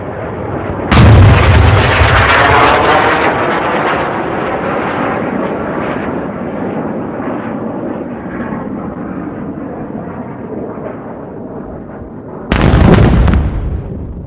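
Explosions and artillery fire during a huge missile barrage in Israel, two very loud sudden blasts about twelve seconds apart with a long rumbling, roaring tail between them, close and with no talking.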